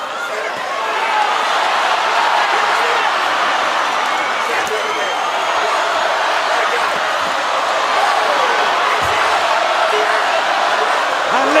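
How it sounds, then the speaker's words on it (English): A packed arena crowd at a women's professional boxing match keeps up a dense, continuous roar of cheering and shouting, loud and steady throughout with no gaps. "And listen to the crowd."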